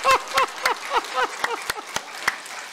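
An audience at a church gathering laughs in rhythmic bursts while clapping along, about nine short voiced laughs, each paired with a sharp clap, closely miked and fading slightly toward the end.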